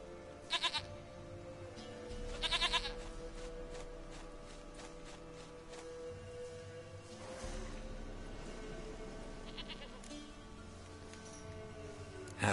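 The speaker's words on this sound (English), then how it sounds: "Goat of mine, dearest, sweetest goat." Goat in The Witcher 3 bleating in short separate calls, two quick bursts early on and a longer quavering one midway, moderately loud over a low steady ambient hum.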